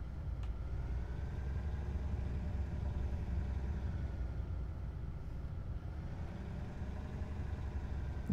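Motorbike engines rumble in the Arma 3 Exile Mod video game, a low, faint, continuous drone that stays even throughout with no talking.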